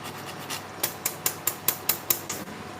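Gandharaj lemon zest is grated lightly on a metal grater in a kitchen, about eight quick rasping strokes in an even rhythm, close and crisp, with quieter scraping between them.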